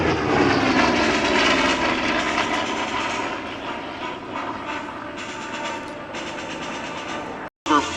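A Vought F4U fighter roars past at the Thunder over Michigan airshow, its piston engine a loud, steady drone that eases slightly as it passes, then cuts out briefly at the end.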